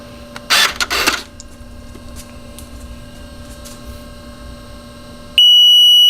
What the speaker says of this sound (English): there's the beep to set the hood height